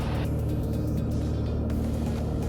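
A Piper Cherokee light aircraft engine runs at full power on the takeoff roll, a loud steady droning roar heard from inside the cabin with no talking.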